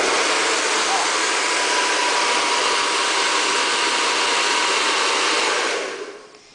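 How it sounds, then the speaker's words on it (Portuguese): A hair dryer blows steadily with a loud, even, breathy roar, then winds down and cuts off near the end, its heat aimed at the rubber pad of an eyelash curler. "Eu vou direcionar o calor do secador para a borrachinha dele"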